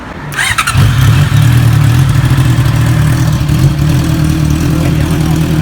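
A Honda CB650R motorcycle with a RooM Rider RS01 aftermarket exhaust starts up with a brief rising rev, then settles into a loud, steady, throaty idle, deep and rumbling, close by.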